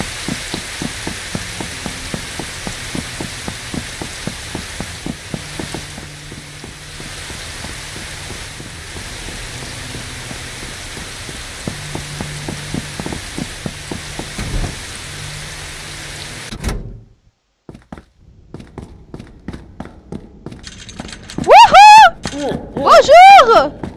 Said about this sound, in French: Non, pas la pluie.